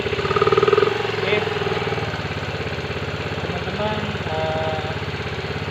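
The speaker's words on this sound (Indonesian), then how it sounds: "alhamdulillah mesinnya sudah menyala." A fuel-injected motorcycle engine runs at a close, steady idle, with a brief louder rev near the start. Someone talks over the rhythmic putter.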